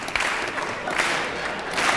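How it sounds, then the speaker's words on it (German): Steady applause from a comedy show audience, a dense, even wash of many hands clapping without a break for about two seconds. "Dit is ganz monotone applaus."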